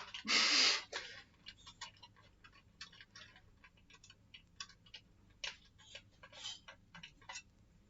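Steady clock ticking, quiet and regular, one sharp louder click near the start followed by a run of faint even ticks.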